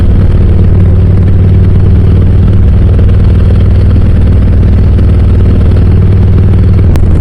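A motorcycle engine runs steadily throughout, a loud, continuous low rumble like idling in a garage with no talking, ending in a brief click near the close.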